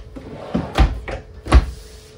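RV kitchen drawers in a 2023 Salem Hemisphere 308RL fifth wheel thump and slide as they open and close, several close knocks in quick succession.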